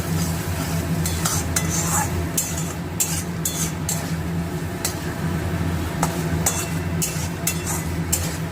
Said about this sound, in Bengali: আলু দিয়ে এটাকে কষছি মশলাটার সাথে, যে মশলাটা বানিয়ে হয়েছে।